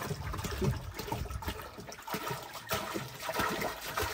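Water splashes and gurgles continuously at close range, a busy liquid pouring sound with no voices.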